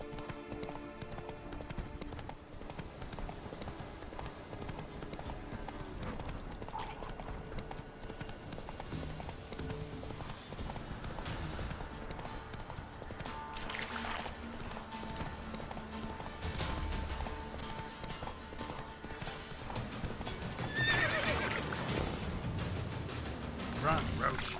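Roach, Geralt's horse in The Witcher 3: Wild Hunt, gallops steadily with continuous hoofbeats over a game soundtrack, with a brief whinny and a voice talking.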